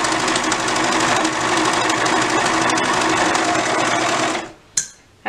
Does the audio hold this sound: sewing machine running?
yes